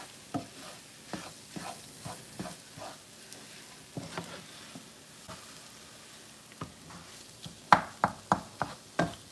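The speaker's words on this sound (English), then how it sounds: "Mix this all together" Spoon stirring breakfast fried rice in a pan with the burner off, a series of scraping, clattering strokes at an uneven pace, ending in a quicker run of sharper knocks.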